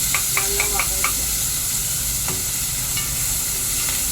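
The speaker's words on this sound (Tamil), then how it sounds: "ஸ்லோ ஃப்ளேமில் வச்சு நல்லா வதங்கட்டும்." Vegetables sauté in oil over a low flame with a constant close hiss and sizzle, broken early on by a few light taps of a spoon against the pan.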